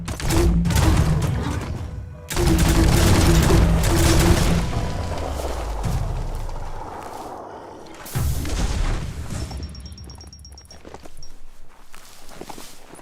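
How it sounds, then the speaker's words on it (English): Gunfire and explosions in Biomutant, heavy booming blasts and bursts of shots in loud waves, with rumbling impacts, a brief pause, then further blasts and a high whining tone fading toward the end. "Bullets everywhere."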